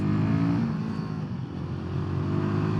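A Royal Enfield Guerrilla 450 motorcycle engine runs with a steady, fairly quiet low rumble, its pitch shifting slightly as it revs, with no talking over it.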